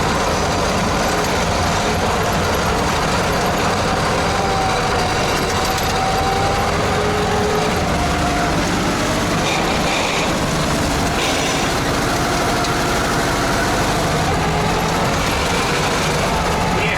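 An old T-74 crawler tractor stuck in a swamp runs its engine steadily and loudly throughout while trying to back out, a continuous rumbling drone with shifting load.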